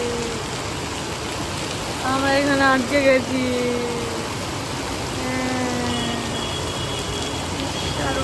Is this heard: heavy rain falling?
yes